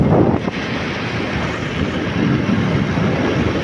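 Wind rushing past the microphone on a fast-moving motorbike, a loud continuous buffeting roar with no let-up.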